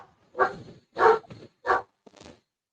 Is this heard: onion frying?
no